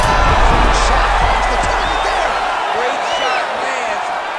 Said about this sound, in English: and the crowd is loving it. The crowd's going.